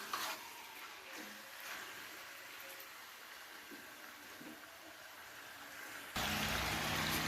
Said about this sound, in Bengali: চিকেনটার কালার চেঞ্জ না হওয়া পর্যন্ত চিকেনটাকে খুব ভালো করে ভেজে নিতে